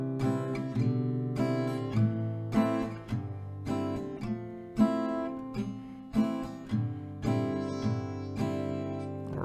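Acoustic guitar strumming one round of the chord pattern from a song, including G6, with steady rhythmic strokes ringing out clearly, close and alone.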